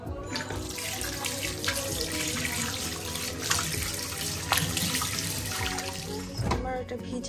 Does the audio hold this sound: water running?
yes